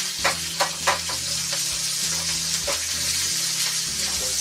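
Onions fry over a high flame for aloo posto, a Bengali potato dish, with a continuous loud sizzle and several stirring clacks near the start.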